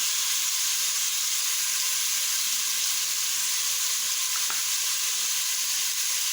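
Garlic fries in a hot pan with a loud, steady, close sizzle that continues throughout, with a brief clink near the end.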